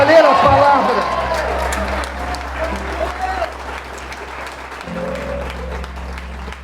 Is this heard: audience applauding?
yes